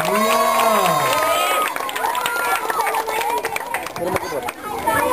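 A crowd claps and cheers amid lively chatter at a street league awards ceremony, with voices calling out over the scattered, busy clapping.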